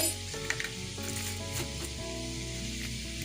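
Cumin seeds sizzle as they fry in a pan for a palak paratha, a steady close crackling hiss with small stirring knocks and clatters on top.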